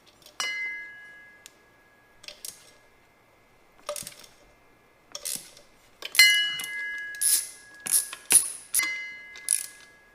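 A ratchet loosening T45 Torx bolts on a driveshaft nose, with bursts of quick metallic clicking separated by short silent gaps, close and clear, and no talking.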